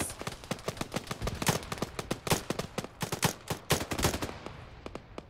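Distant rapid gunfire in a military co-op battle in Arma: quick bursts of sharp cracks in an uneven rhythm, fairly faint overall, fading out at the end.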